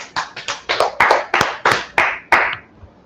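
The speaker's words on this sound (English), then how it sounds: "Clap it up for the class." A small group clapping for a class in a hall, about nine loose, uneven bursts of claps in quick succession, fairly close and clear, fading out at the end.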